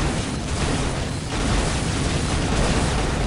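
Enemies in the video game Unreal fire hand rocket launchers, and the rockets explode in a dense, continuous roar of blast noise. The sound briefly dips, then surges back loud and unbroken.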